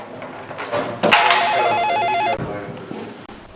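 A telephone rings with a steady electronic trilling bell lasting over a second, loud and close, with no talk over it.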